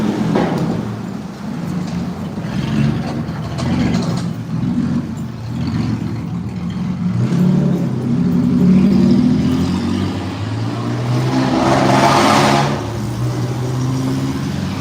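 Cars drive past on a neighborhood street, a continuous rumble of engines and tyres that swells and fades as several vehicles pass close by, with one louder pass near the end.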